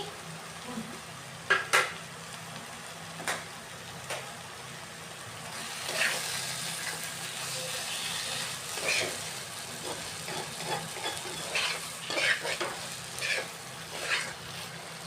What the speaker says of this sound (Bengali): এখন এটা কিছুক্ষণ ভাজা হবে